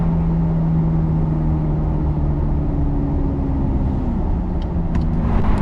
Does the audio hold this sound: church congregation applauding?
no